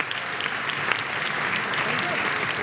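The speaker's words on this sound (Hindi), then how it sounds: "आप सभी की जोरदार तालियां होनी चाहिए।" Sustained applause from a large crowd, steady and fairly loud throughout, with a voice faintly audible beneath the clapping.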